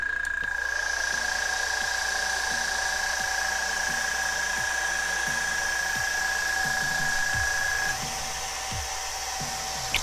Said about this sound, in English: I have an air compressor.